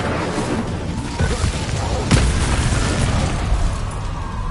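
A fiery Incendio spell blast from a Harry Potter game, a rumbling whooshing burst of flame with a sharp crack near the middle, loud and sustained against noisy background effects.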